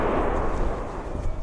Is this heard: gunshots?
yes